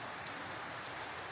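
Heavy rain in Bangladesh, a steady, even hiss of falling water, faint and continuous with no other sounds.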